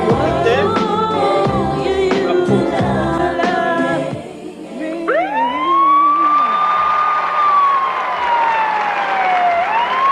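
Police sirens wail within a played concert recording: after a few seconds of busy rhythmic music, a loud rising siren sweeps up and holds a long wavering tone, with a second siren layer beneath it, close and dominant.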